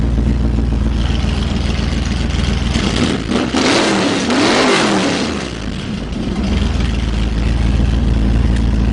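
A loud 1965 Chevrolet Nova SS engine revs up and falls back, its open exhaust cutouts roaring and crackling, with a steady idle rumble before and after.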